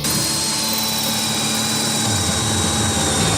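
A power drill bores a hole into a drum for a wood stove fitting. The whine is loud and steady, close up, with a low grinding rumble underneath.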